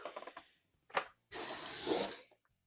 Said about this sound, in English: we're ready to spray some black and get this show on the road